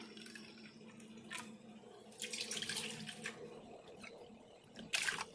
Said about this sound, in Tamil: எந்த கப்பில் நாம் ராகி மாவு எடுத்தோமோ அந்த கப்லேயே 2 கப்பு தண்ணி ஊற்றிக்கலாம்